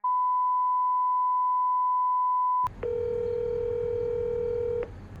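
On a phone call forwarded to voicemail, a long steady electronic beep gives way to a louder ringing tone lasting about two seconds, then a quieter hiss. Both are clean and close, with no voice.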